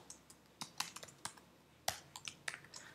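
Typing on a computer keyboard, with quick irregular clicking keystrokes in short bursts and small pauses, close and fairly quiet with no talking.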